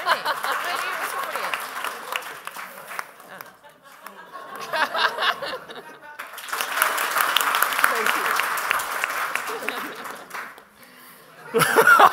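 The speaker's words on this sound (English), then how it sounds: "Round of applause." Audience at a financial index presentation breaks into clapping mixed with chuckles and laughter, swelling and easing in waves and surging loudly again near the end, with some chatter.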